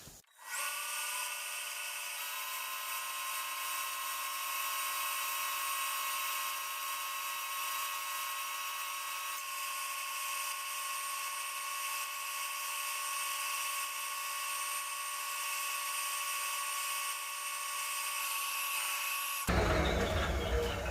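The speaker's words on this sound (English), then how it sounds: "once I go ahead and fire up this dust collector for the booth, and I fire it and the compressor fires up" A steady high-pitched mechanical whine of a spray booth dust collector and air compressor running continuously, loud and close, with a sudden change near the end.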